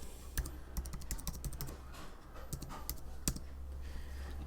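Quick bursts of keystrokes on a computer keyboard, soft and fairly quiet, with short pauses between clusters of clicks.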